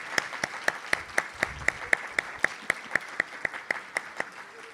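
Audience applause at a student induction ceremony, with one sharp, steady nearby clapper beating a regular rhythm over softer, more distant clapping from the crowd.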